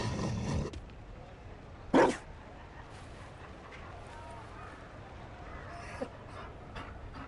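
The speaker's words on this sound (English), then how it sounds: "You found a dog?" Dog panting in a PS4 fantasy role-playing game, a quick run of breathy pants at the start, followed by a short loud burst and a faint hiss over quiet game ambience.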